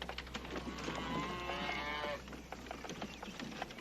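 Cattle low in a long drawn-out moo over a steady outdoor background, one clear call at middle distance on a ranch in a western drama.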